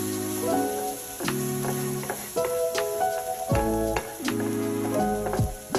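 Cabbage, carrot and onion stir-fry in an oil-slicked pan with a steady close sizzle and occasional scraping stirs, partly under a loud melodic music track; no voices.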